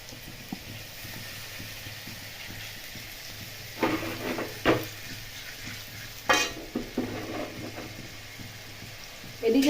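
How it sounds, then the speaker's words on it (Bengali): Paneer fries in butter on a flat griddle pan, giving a quiet, steady sizzle with a few louder scrapes and stirring knocks now and then. "পনিরটাকে একটু বাটার দিয়ে ভেজে নেব।"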